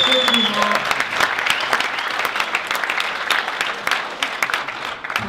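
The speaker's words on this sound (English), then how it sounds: "Give yourselves a round of applause" Audience applause fills the room at a Beehive Startups conversation event in Provo, Utah, a dense, loud, sustained clapping from a large crowd, with a voice briefly heard at the start.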